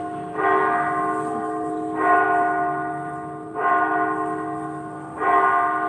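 Church bells chime slowly and resonantly during a lecture, four evenly spaced strikes, each ringing out and fading before the next, loud and alone with no talking.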